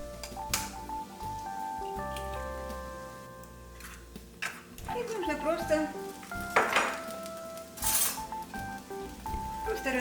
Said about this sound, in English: I will just break the eggs with a fork.